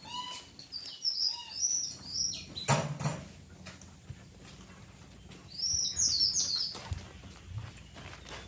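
A laughingthrush sings in short, bright whistled phrases with pauses between, fairly faint against household noise, with a brief clatter partway through.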